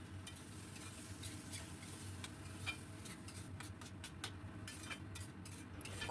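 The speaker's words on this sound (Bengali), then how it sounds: "এই অবস্থায় আমি মুগ ডাল দিয়ে দিলাম। খুব ভালো করে আমি নাড়াতে থাকবো।" Mung dal stirred into hot spiced oil in a pan for a Bengali potol dish, a soft, steady sizzle with faint scraping and ticking of the spoon, quiet and close with no talking.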